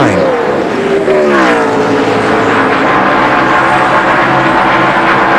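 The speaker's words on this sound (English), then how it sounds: "Here's the race for 4th. Bill Elliott going to take it away from Tony Stewart" NASCAR race cars at speed during the 2002 Southern 500, a loud continuous engine roar with rising and falling pitch sweeps as cars pass close by, steady throughout with no talk.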